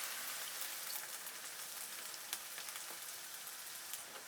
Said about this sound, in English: Put the mussel and shrimp broth.